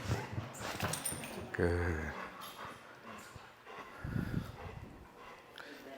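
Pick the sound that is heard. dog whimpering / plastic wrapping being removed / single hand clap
dog whimpering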